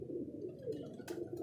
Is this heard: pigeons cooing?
yes